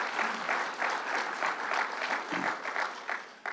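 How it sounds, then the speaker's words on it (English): An audience at a political campaign event applauds, a steady wash of clapping heard at moderate distance throughout the short stretch. "So let's give her a round of applause"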